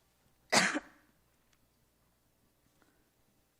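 A single sharp cough from someone speaking at a church Sabbath school gathering, loud and close, followed by near silence with faint ticks.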